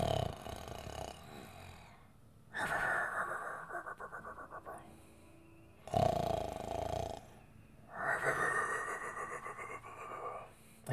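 A voice imitates a deep snore during a tabletop fantasy game session, giving several long, rasping, breathy drones in uneven bursts with pauses between.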